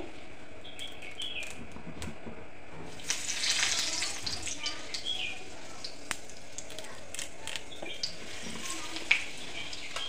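Curry leaves go into hot oil on a heated griddle and hiss sharply, with a louder sizzling burst as they hit, then a steady close crackle with small pops while preparing a Konkan vegetarian thali.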